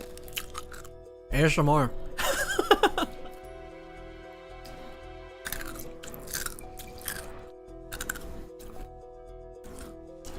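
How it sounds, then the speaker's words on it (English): Crunching on hard ice cubes, close and crisp, in a few loud bursts of cracking and chewing spread between quieter stretches, with a low steady hum underneath. "But chewing on ice is fun."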